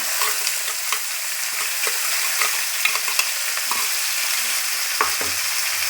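Ground wet coconut chutney paste frying in a tempering with asafoetida, a constant hissing sizzle with scattered scrapes and taps of a spoon stirring the pan.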